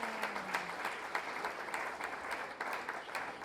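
Church congregation applauding during a sermon, a steady patter of many hands clapping at moderate distance in a sizable hall, faint and continuous throughout.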